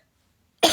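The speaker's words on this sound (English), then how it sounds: "I apologize for coughing in your face there." A single sharp cough bursts out close to the microphone at the very end, after a stretch of near silence.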